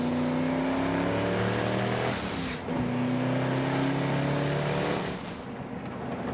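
A race car engine at Laguna Seca pulls hard under boost on a hot lap, close and loud. Its steady rising drone breaks off for a gear change partway through, then climbs again and eases near the end.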